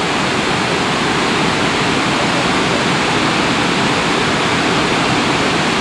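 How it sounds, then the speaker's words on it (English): Steady, loud rush of water pouring over rocks at Burney Falls, California, a dense continuous roar that never lets up. "see the water just flowing from underneath those rocks somehow"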